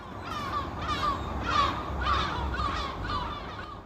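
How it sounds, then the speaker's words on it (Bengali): Myna birds crying out in distress as a story sound effect: a rapid series of about six harsh, raspy calls repeats steadily at close range over a low background hum, with no voices. "শালিক পাখিদের আর্তরব শোনা যেতে লাগল"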